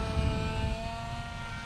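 Modified Bixler 2 RC plane fitted with an NTM motor and a 7x4 prop flies by, giving a steady, continuous propeller drone with a sustained tonal whine at fairly constant loudness.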